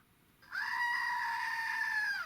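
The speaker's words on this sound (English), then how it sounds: "this little toy goat. Okay? And when you push it down," A small toy goat squeezed to make it scream lets out one sustained, shrill, goat-like scream lasting nearly two seconds, close and loud over faint background hiss.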